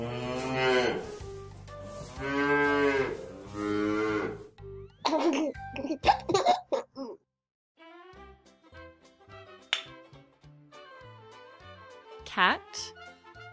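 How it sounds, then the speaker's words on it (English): Cattle mooing in a children's farm-animal song, several long, loud lowing calls in the opening seconds, followed by a bright sung melody with backing music. "Cow."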